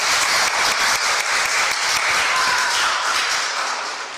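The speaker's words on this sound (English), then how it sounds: "Can we give a great hand clap of praise?" A church congregation claps its hands in praise, with dense, steady applause filling the room for about four seconds and fading slightly at the end.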